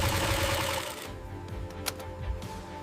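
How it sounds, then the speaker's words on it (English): An industrial sewing machine stitches knee panels on firefighter uniform trousers in a factory, a fast mechanical whir that stops partway through and leaves a quieter background hum with a few light clicks. "Knee panels are stitched to allow maximum mobility while maintaining protection."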